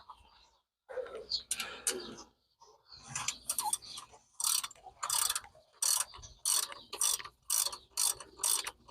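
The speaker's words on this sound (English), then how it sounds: "I do have a ratchet though." A hand ratchet works on the adjustable cam gear of a Ford 2.3 turbo engine in a Foxbody, giving a run of loud, close, rhythmic clicking bursts in steady repeated strokes after some earlier scattered handling.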